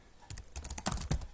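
Fingers typing on a computer keyboard, a quick burst of close, crisp key clicks in an uneven rhythm.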